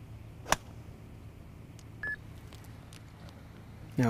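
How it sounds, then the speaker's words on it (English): A short, thin electronic beep sounds once in a quiet room, with a couple of soft clicks around it. "you heard that little beep on the camera"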